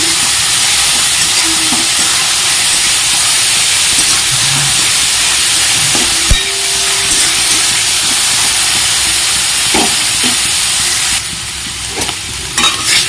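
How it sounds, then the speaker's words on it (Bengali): Chopped onion fries in hot oil for a Bengali mourala fish jhal chochchori, a loud, steady sizzle that runs throughout, with a few sharp knocks of stirring and a slight drop in intensity near the end. "পেঁয়াজটা একটু তেলের উপরে ভেজে নিচ্ছি।"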